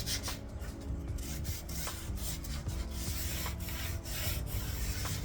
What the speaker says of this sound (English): So I'll sand that edge.